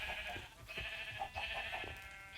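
Blocky sheep bleating in the video game Minecraft, several repeated bleats from a farm pen of many colored sheep, steady and fairly close with no talking.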